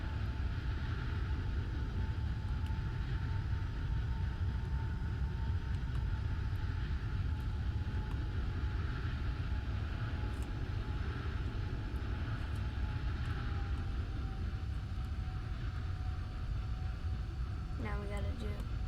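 A steady airplane engine drones in the Roblox flight game Flightline, a continuous even hum with a faint whining tone, running unchanged throughout.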